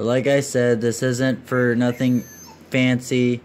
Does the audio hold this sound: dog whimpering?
yes